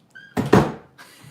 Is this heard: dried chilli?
no